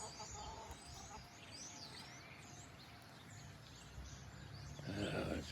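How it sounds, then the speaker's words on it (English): A rooster kept as a porch chicken in a backyard gives soft, low clucks mixed with small bird chirps. A person talks nearby, and the sounds become louder and closer toward the end. "And there's that chicken."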